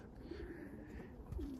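Racing pigeons in a loft cooing softly, a couple of low rolling coos close by against a quiet background, with no talking.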